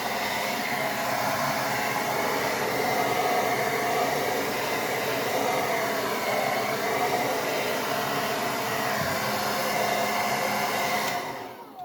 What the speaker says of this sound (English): I take my blow dryer and a cool shot just to make sure I know it's sticking on and drying really fast